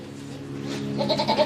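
A goat bleats at a goat farm where animals are kept for Bakrid sacrifice, a near, steady wavering call rising in strength toward the end over a low background hum.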